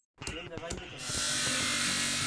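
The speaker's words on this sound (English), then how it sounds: "Then he shaves down the bone pieces with an electric sander." An electric sander grinds down pieces of carved bone in an Indian bone-carving workshop. A brief voice and some clatter come first, then a loud, steady, high buzzing whine of the tool that continues to the end.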